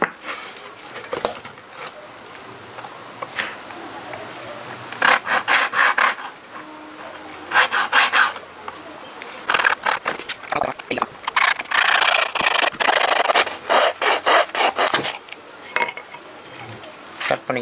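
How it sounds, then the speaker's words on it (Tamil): Wood being cut by hand to make a mobile phone stand, with rasping back-and-forth sawing strokes in several bursts of quick rhythmic passes, close and fairly loud, separated by short pauses. "ஃபர்ஸ்ட் நம்ம இதை கட் பண்ணி எடுத்துப்போம்."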